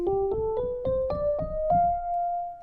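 An instrument plays a rising hybrid scale, Lydian in the first half and Mixolydian in the second, as seven separate notes stepping upward at an even pace, the last note held and sustained, clear and alone.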